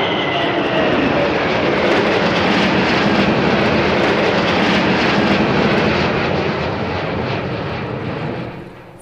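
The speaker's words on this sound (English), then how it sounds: "the parade of Russian strategic bombers, starting with the Tu-22." A Tupolev Tu-22 strategic bomber flies past at an air show at Zhukovsky, a loud, continuous jet roar that holds steady, then fades away in the final seconds.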